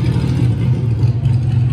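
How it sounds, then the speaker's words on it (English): A motorcycle engine roars by on a busy street near the Atlanta Braves stadium before a game, a loud, steady low rumble that fills the whole clip without any talk. "Oh no, it's a motorcycle."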